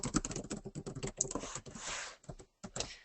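Typing on a computer keyboard, with a rapid, uneven run of close key clicks that pauses briefly near the end before resuming.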